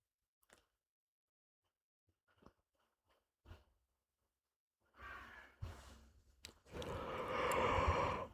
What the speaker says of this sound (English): That was a big one. That was a big fucking yawn.